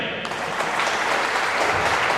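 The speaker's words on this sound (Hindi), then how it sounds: "तो एक बार करंट के लिए तालियां बजाओ।" A school audience breaks into brisk applause, starting abruptly and holding loud and dense for a couple of seconds.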